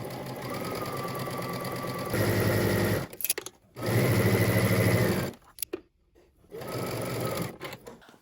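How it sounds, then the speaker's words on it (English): A sewing machine stitches a 5/8-inch dress seam in steady bursts of rapid stitching, pausing briefly between runs, close and fairly loud. "we're going to head to the sewing machine and we're going to stitch using 5/8 of an inch seam allowance"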